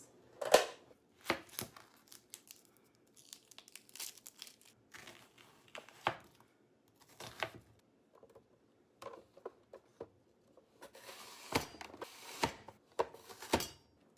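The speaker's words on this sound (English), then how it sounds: "Very uniform dicing, but that's what we are going for, so I'm going to start going through a lot of these onions" Onions being diced on a board, a close series of sharp knife chops in irregular bursts with quiet pauses between, no talking.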